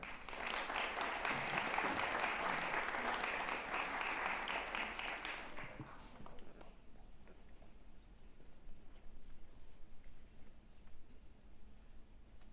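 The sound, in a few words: audience applause welcoming the chairperson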